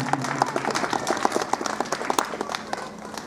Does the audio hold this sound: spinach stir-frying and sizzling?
no